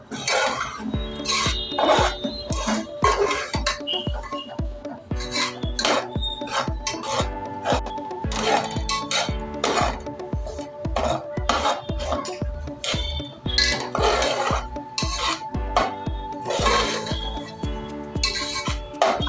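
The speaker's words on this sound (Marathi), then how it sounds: "हे सतत आपल्याला परतवत राहायचं जर परतवलं नाही ना तर ते खालतून लागू शकतं" A spoon steadily stirring sautéed pineapple pieces in ghee in a pan, repeated scraping and clinking strokes in a regular rhythm, close and clear, with no talking.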